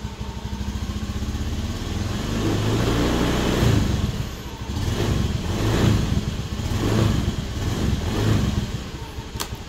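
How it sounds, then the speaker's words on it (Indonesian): After an oil change, a Honda Beat FI scooter engine idles with a rough, close putter, then its throttle is blipped several times. The revs rise and fall in repeated swells before settling back toward idle. "bisa kita naikkan gasnya sedikit-sedikit"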